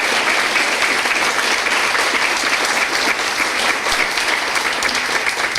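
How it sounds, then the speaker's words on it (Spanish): An audience at a book launch ceremony applauds steadily and loudly, a dense, continuous wash of clapping with no voices over it. "quiero pedir un aplauso, Juan Carlos, Marcela y Gloria."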